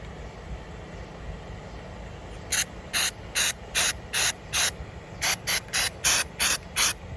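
Nu-Calgon pan spray hisses from an aerosol can in eleven short, even bursts, a run of six then five after a brief pause, close and crisp over a steady low background rumble.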